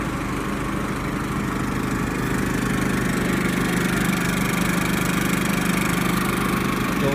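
A Champion 3100-watt dual-fuel generator runs on propane under roughly a 700-watt load, giving a steady, loud, unbroken engine drone heard from nearby without pauses or voices.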